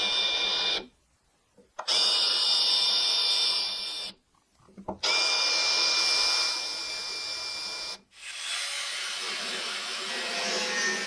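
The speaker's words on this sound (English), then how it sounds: "I'll try to drill those out" Power drill boring out stuck fasteners on a Triumph TR4 during teardown, a steady whining drive running in three long bursts separated by short pauses, close and loud with no talking.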